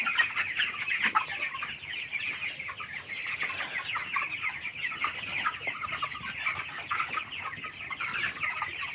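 A crowd of 22-day-old broiler chickens clucking and chirping continuously at night, a steady busy flock sound with no talking.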